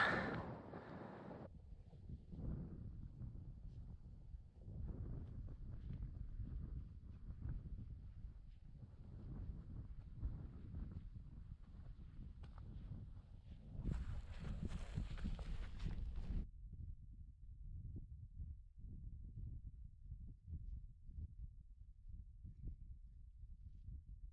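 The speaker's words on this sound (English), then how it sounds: "It's a wee bit windy, hope you can hear me." Low, blustery wind buffeting the microphone continuously on a Scottish mountain at about 970 to 980 metres on Beinn a' Ghlo, rumbling and gusting with brief louder surges, no voices.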